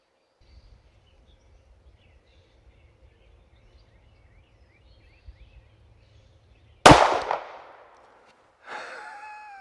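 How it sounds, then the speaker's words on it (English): A Tank Commander .45 pistol is fired at a target at an indoor-style range: after near silence, one sharp, loud report bursts out and decays, with a tonal ringing following a moment later. "I've got 3 rounds loaded up in the pistol"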